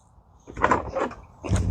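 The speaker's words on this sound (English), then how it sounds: "Now you can bring the door forward some and then straight up." A door panel being lifted off a KitchenAid dishwasher gives a few short, close plastic clunks and scrapes in quick succession.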